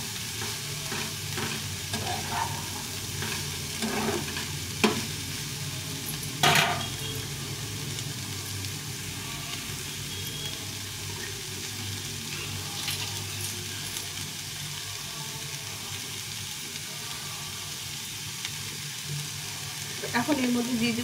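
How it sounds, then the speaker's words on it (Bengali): Momo filling with carrot and other vegetables frying lightly in a pan, a steady low sizzle running throughout with occasional spatula scrapes and clinks against the metal, moderately close and without speech. "দিয়ে এগুলোকে একটু হালকা করে ভেজে নেব।"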